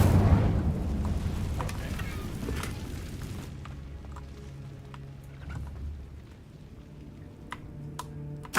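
An Incendio fire spell is cast in Hogwarts Legacy, opening with a loud fiery whoosh and burst that quickly dies away into low crackling, with a few soft clicks and small pops afterward.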